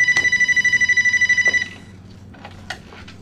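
A telephone rings with a rapid, trilling electronic bell for about a second and a half, then stops, leaving a quiet room with faint rustles and small knocks.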